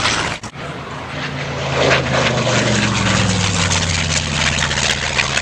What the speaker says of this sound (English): T-38 Mustang does a low flyover.